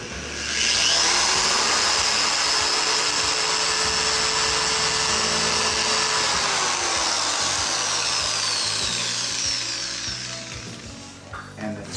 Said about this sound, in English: You're going to drill straight through the metal, the glue, the plastic